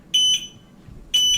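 A Duevi EZY-LAN WiFi alarm system siren gives two short, clear, high-pitched electronic test beeps about a second apart, close up in a quiet room.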